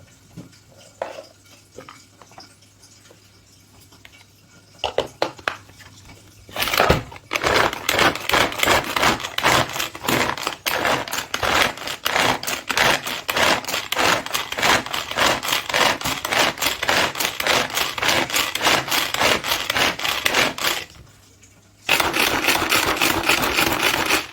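Turmeric pounded and ground with a stone mortar and pestle: a steady, rapid run of rhythmic scraping and knocking strokes, close and fairly loud, breaking off briefly near the end before resuming.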